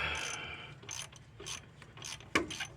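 A ratchet working a bolt while a Ford Focus transmission is being pulled, several short bursts of clicking and rasping in uneven rhythm, close by and fairly quiet.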